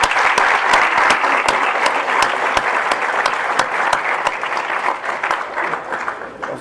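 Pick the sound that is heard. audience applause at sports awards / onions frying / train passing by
audience applause at sports awards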